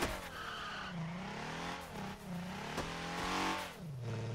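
Car tires squealing while drifting in the racing game Torque Drift 2, long wavering screeches that rise and fall over a revving engine, loud and continuous throughout.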